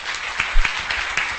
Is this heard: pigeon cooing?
no